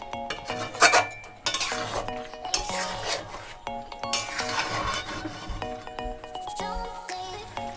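Meat with peas and potatoes being stir-fried in a pan, repeated rasping scrapes and metallic clinks of a spatula against the pan in uneven strokes, close and fairly loud, with no talk.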